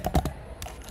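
A few quick keystrokes clack on a computer keyboard, close and crisp, then fainter taps follow within a second.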